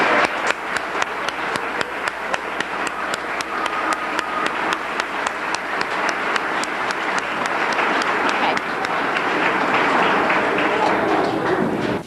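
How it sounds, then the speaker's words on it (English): An audience at a 1991 US Space Camp graduation ceremony gives sustained applause, steady dense clapping with some rhythmic beats running throughout at a constant level. "Let's give these 3 young adults a very big round of applause."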